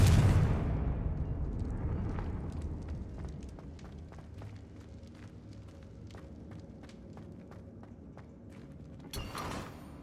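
A Confringo blasting spell explodes in Hogwarts Legacy with a loud, rumbling boom at the start that fades into a long decaying tail over scattered footsteps, followed by a brief bright burst near the end.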